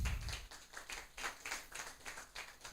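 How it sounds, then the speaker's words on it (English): A training class claps for a fellow participant, a short burst of scattered, fairly faint hand claps with an uneven rhythm heard from a distance. "Can we clap for him?"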